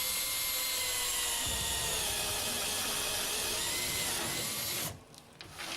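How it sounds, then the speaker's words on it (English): A power drill with a 1 inch spade bit boring through OSB at a lower speed setting, a steady whining drone with grinding texture that cuts off sharply near the end, leaving quiet rustling. "I'll put the 1 inch spade bit in there."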